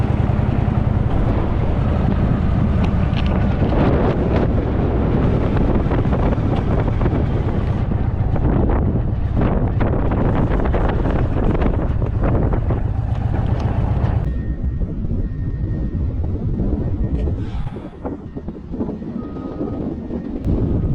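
Strong hot wind buffets the microphone in loud, continuous roaring gusts while riding an Indian motorcycle in Australia, then eases off and grows quieter near the end.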